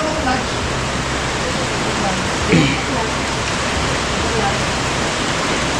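Heavy rain pours steadily in a dense, hissing wash of noise, with a faint voice briefly audible underneath.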